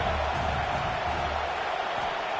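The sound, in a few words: football stadium crowd cheering on third down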